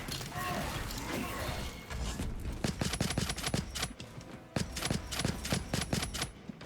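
Rapid gunfire bursts from the Space Marine 2 video game with the Astartes mod and Terminators, several quick volleys crackling in clusters over a faint background.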